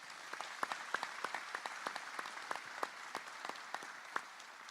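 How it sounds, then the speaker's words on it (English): An audience at the Robins Air Force Base State of the Base event gives a round of applause, with distinct individual claps standing out over a soft, steady patter heard from some distance. "Another big round of applause."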